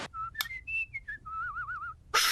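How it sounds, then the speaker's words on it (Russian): Whistling from the animated baby in The Simpsons, a short clear melodic tune of several pitched notes ending in a warbling trill, loud and close with no talk. "Что это за свист?"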